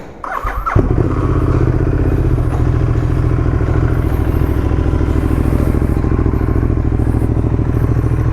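A motorcycle engine catches with a thump and a clatter, then settles into a loud, steady, close-up running rumble at the start of a short city ride.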